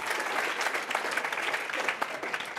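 Audience applause at a challenge finals plenary, steady dense clapping from a large crowd throughout the short stretch.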